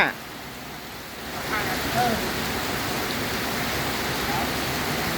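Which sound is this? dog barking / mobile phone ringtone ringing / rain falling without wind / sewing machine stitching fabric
rain falling without wind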